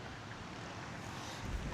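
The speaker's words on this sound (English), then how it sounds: "it is definitely windy though" Wind gusts across a pond during a bass fly-fishing outing, a low, steady rushing roar buffeting the microphone with no voices, swelling slightly toward the end.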